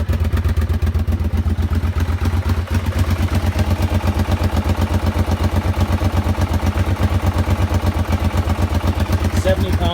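A quad ATV engine with its spark arrestor fitted, running on bad gas and smoking a bit, chugs in a steady, loud, close rhythmic idle with slight clatter throughout.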